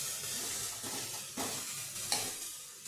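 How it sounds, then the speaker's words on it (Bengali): Grated onions, dried red chillies and whole spices frying in a pan for a jackfruit curry, a close crackling sizzle broken by several scraping stirs. "দেখুন এখানে আমি পেঁয়াজ এবং লঙ্কা আর ফোড়ন এগুলো খুব ভালোভাবে ভেজে নিচ্ছি"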